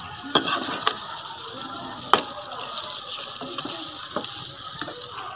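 Potatoes frying in oil in a pan and being stirred, a soft steady sizzle broken by a few sharp scraping knocks of the utensil, close and moderately quiet.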